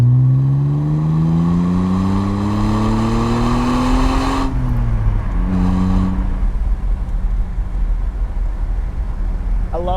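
BMW E46 non-M car with a deep, grunty engine and muffler exhaust note, driving and revving steadily up then easing off, loud and close throughout with no talking.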